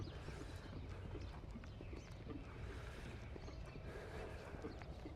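Horse hooves clip-clopping steadily during a training session, a continuous rhythmic patter of footfalls at moderate distance over outdoor background noise, with no talk.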